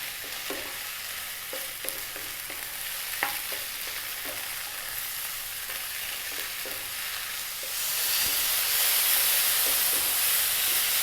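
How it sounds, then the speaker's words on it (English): Whole mushrooms sizzle and spit in a hot frying pan, with steady hiss and scattered crackles as they are stirred, growing louder and steamier near the end as they release their liquid. "it's started to get a bit noisier because the mushrooms are releasing some form of liquid"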